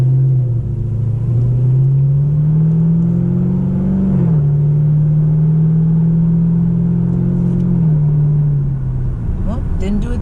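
A car engine pulling under acceleration in automatic mode, a smooth rising drone that dips briefly at the third-to-fourth gear change, then steadies and fades slightly, heard from inside the cabin.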